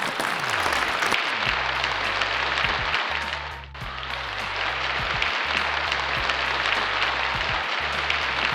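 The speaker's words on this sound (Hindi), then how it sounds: "बतासा चाचा के लिए जोरदार तालियां होना चाहिए प्लीज।" Loud, continuous applause at an awards show as a best comic actor prize is given, a dense wash of clapping over a repeating music track, dipping briefly midway and then swelling again.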